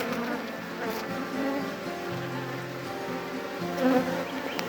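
Honey bees drone steadily inside a hive, a dense continuous buzz that swells slightly near the end, with no voices over it.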